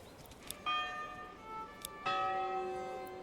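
A church bell in the medieval building game Manor Lords, two clear rings with a ringing, sustained tone and slow decay, faint against a quiet background with light soft ticks.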